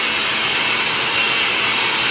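An electric mixer whirs steadily while mixing lemon buttercream frosting, a loud, continuous high motor whine with a faint grinding texture and no voices over it.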